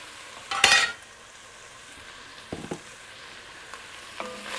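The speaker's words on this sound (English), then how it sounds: "once these onions have had a chance to cook a little bit, chopped up my 3 cloves of garlic, put that down in there" Onions and chopped garlic (three cloves) sizzle softly in a pan, with one sharp metallic scrape at the start and a few lighter utensil knocks as they are stirred.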